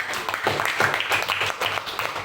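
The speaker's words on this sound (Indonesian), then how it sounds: "Tepuk tangan dulu untuk tugasnya yang sudah mengerjakan" Students in a fourth-grade classroom applaud classmates who finished their assignment, a dense, fairly loud clatter of claps mixed with chatter and room noise throughout.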